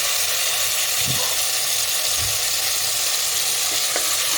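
Loud, steady sizzling as marinated chicken masala fries in a hot pan for Afghani chicken, continuous throughout with a few soft clinks, no talking.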